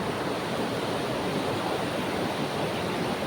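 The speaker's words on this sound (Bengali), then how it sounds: "এই হচ্ছে ডাউকি রিভারের স্রোত" Rushing current of the Dawki river, a clear river in India's North East, roars as a steady, loud, unbroken wash of broadband water noise close by, with no voices.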